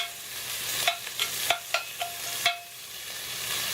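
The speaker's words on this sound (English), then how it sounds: "Get that bacon seared up in there." Bacon sizzling and searing in a pot for chili con carne, a close steady hiss of frying fat broken by several sharp spits and pops and a clink of stirring.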